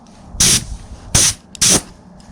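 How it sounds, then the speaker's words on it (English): Three short, loud hissing blasts from an air compressor nozzle blow dust off charred shou sugi ban wood, each about a fifth of a second, with quiet pauses between them. "it's nice if you have an air compressor to just blow all that extra dust off"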